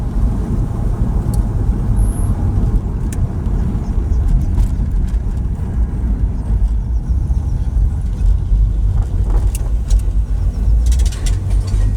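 A 1999 Porsche Boxster 986 with a 2.5-litre engine and tiptronic automatic gearbox driving on the road, its steady engine drone and road rumble loud and continuous throughout.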